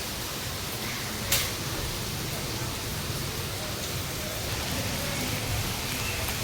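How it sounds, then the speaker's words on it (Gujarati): Steady heavy rain with wind hisses as a continuous, even wash of sound, fairly distant, with a single brief sharp tap early on, in Radhanpur, Gujarat. "ફૂલ એકદમ વરસાદ ચાલુ થઈ ગયો"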